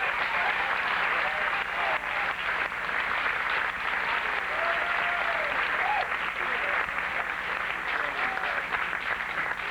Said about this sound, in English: Would you give a nice round of applause for National Pageantry System's chairman, Mr. Kevin Scott.